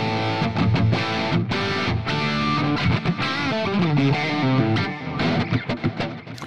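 Electric guitar through a simulated Marshall JCM 800 amp with no boost, playing a busy distorted riff with chords and single-note runs, loud and close, no speech.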